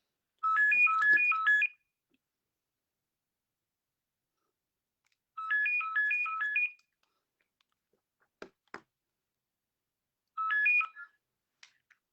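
A telephone ringtone plays three short warbling bursts of bright electronic tones, each about a second long with long silent gaps between them and a couple of faint clicks, with no voices.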